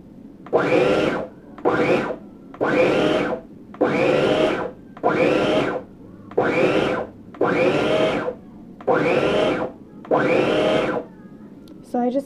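A blender pulsing oats for baby oatmeal, about ten short even bursts of whirring, each roughly a second long with brief gaps, loud and close.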